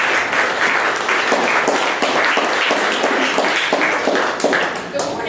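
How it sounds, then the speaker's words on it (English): Audience applause at a 1 Million Cups startup pitch event, a dense, steady clapping from a room of people welcoming a presenter, sustained and fairly loud throughout. "So please give her a warm round of applause."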